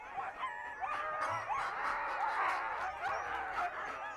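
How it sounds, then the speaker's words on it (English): Husky sled dogs bark and yip together, a busy overlapping chorus of high, excited yelps and whines, close and continuous throughout. "Huskies are bred to be sled dogs."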